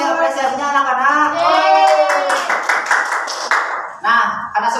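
Children in a classroom clap their hands in a lively burst of brisk, close clapping, with voices speaking and calling out around it.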